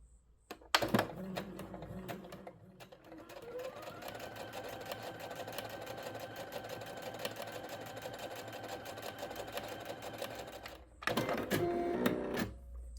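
A Singer SE9185 straight-stitch sewing machine runs steadily for about ten seconds, a fast even mechanical whir and clatter, close and alone, with brief handling clicks at the start and end.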